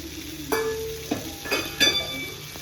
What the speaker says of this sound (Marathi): हे सगळ्या साइडने अलटून पलटून घ्यायचे आहेत म्हणजे ते प्रॉपरली फ्राय होतील।